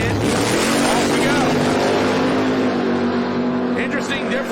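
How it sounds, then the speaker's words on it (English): A 1932 Ford hot rod pickup truck with a modern turbocharged LS engine launches at a drag strip, giving a loud, sustained engine roar that holds steady throughout, with some talk faintly underneath. "That's a 32 model Ford pickup truck"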